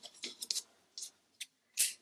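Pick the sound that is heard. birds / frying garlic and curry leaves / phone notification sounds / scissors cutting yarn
scissors cutting yarn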